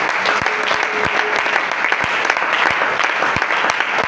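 Congregation applauding in a church, steady dense clapping from many hands filling the room, close and loud, with a brief voice faintly underneath.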